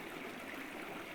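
Water runs in a stream over rocks in nature, a soft, continuous babbling trickle, faint and steady with no voices.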